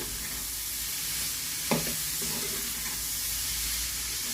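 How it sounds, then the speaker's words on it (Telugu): Prawns frying with onions in a pan give a steady close sizzle, broken once by a brief clink of stirring midway, with no one speaking. "రొయ్యలు ఇలా వేగితే సరిపోతాయండి"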